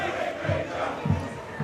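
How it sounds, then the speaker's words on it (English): Rugby supporters of Cardiff Met roar and shout from the stands during a BUCS Super Rugby match against Swansea, a dense continuous crowd noise with rising bursts of cries, fairly loud throughout. "you can just hear the cries of the Cardiff Met fans cheering their team on in defence"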